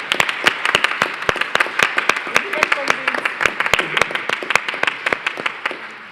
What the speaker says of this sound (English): let us give again a big roll of applause to our speakers.